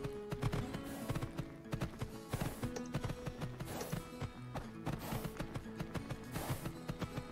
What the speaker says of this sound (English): you can turn down the hoof sounds